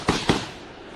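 Gunfire during jungle combat, two sharp distant shots about a fifth of a second apart, each with a brief echoing tail, then a quiet outdoor background.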